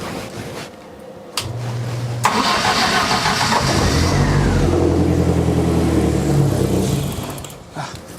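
A 2002 Turbo car engine, just jump-started from a dead battery, cranks briefly and then catches, rising into a loud, sustained rev before it sags and dies away near the end. The sound is close and drowns out other noise.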